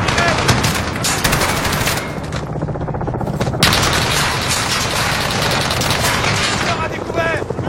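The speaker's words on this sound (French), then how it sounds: "La mitrailleuse est en train de recharger." Sustained rapid machine-gun fire from Call of Duty Modern Warfare, dense bursts of shots with booming impacts running nearly the whole time, loud and continuous with a brief lull in the middle.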